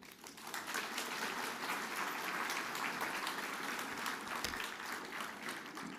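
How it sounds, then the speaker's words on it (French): A hall audience applauding at a talk in Saint-Raphaël, a dense, even wash of many hands clapping that holds steady for several seconds. "Je vous demande de l'applaudir."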